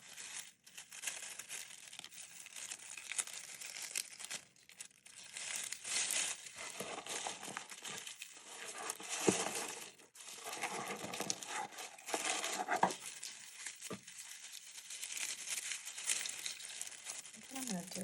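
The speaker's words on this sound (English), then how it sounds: "Let's tape these two together first" Book pages being handled and taped together for a paper bow, with steady crinkling and tearing of tape and paper close up, continuous throughout with brief pauses.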